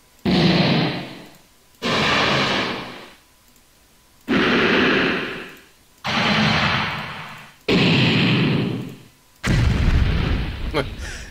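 Fire animation sound effect from RPG Maker VX Ace, played six times in a row: loud roaring whooshes of flame, each lasting about a second and fading out, separated by short silences.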